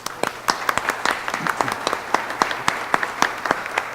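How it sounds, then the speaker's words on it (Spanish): Scattered applause from a public forum audience on socio-environmental water conflicts, individual claps standing out sharply and irregularly over a soft room murmur. "darle un aplauso a los panelistas"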